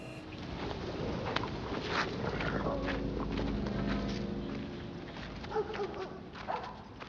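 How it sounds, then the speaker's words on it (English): Dogs barking and yipping in a film scene, the barks set within a dusty outdoor ambience of wind and clip-clopping hooves, moderately distant and fairly quiet. "dogs barking"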